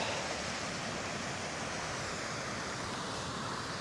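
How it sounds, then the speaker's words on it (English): A small series of waterfalls on Red Tarn Beck in the fells gives a steady, broad rush of falling water. The sound is continuous and fairly soft, with no voices over it. "And that would be Red Tarn Beck. Nice wee series of waterfalls."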